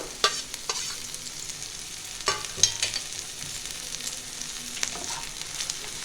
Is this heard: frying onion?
yes